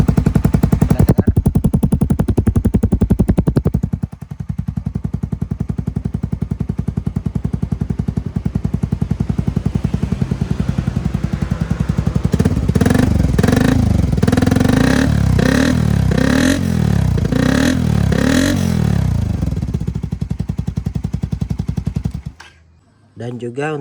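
Motorcycle exhaust fitted with a three-sound DB killer, worn after two years of use, idling with a loud steady rumble then revved repeatedly in sharp rising bursts near the microphone before cutting off.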